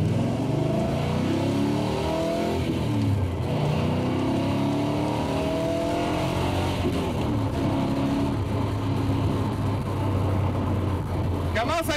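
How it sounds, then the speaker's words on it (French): American V8 in a De Tomaso Pantera fitted with two non-original carburetors, a loud continuous engine drone rising in pitch as it revs and pulls steadily, heard close. "Le bon vieux V8 américain, il est tout là."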